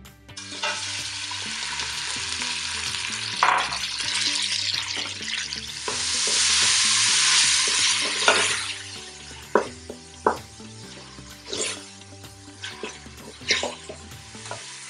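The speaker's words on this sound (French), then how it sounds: "quand l'huile est chaude, je vais immédiatement mettre ma viande hachée." Minced meat goes into hot oil in a saucepan and sizzles loudly and steadily, with a stronger burst of frying midway and intermittent scraping and stirring clicks over the crackle.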